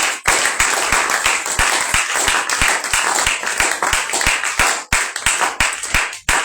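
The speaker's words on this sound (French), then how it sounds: "J'aimerais qu'on acclame un peu le Seigneur Jésus-Christ." An audience at a church conference claps and cheers loudly and continuously, with dense, rhythmic clapping filling the whole stretch and no talk over it.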